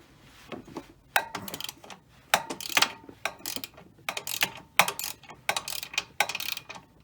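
Wrench ratcheting on a nut of a sway bar bushing bolt on a Chrysler Town & Country or Dodge Grand Caravan, heard as close, irregular bursts of metallic clicking with brief pauses between strokes, no talking.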